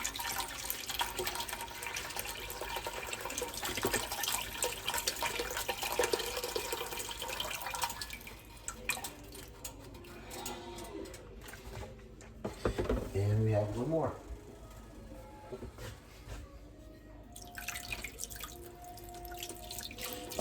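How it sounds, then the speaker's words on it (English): Broth is poured down a spoon into a soup pot for Italian wedding soup, giving a continuous close splashing, trickling pour with a brief louder gurgle partway through and faint background sounds. "I pour it on the spoon like this so it doesn't splatter"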